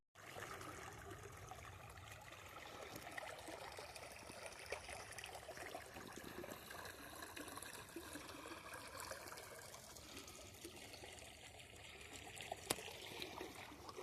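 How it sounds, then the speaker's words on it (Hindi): Tubewell water gushes steadily into a farm field on a cold winter morning in rural Uttar Pradesh, a faint, continuous trickling rush with no breaks. "तो ये ट्यूबवेल चल गई है और खेत में पानी जा रहा है।"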